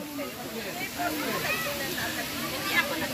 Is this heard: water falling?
yes